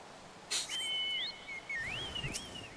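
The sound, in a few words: bird whistle in Final Fantasy XIV Online video game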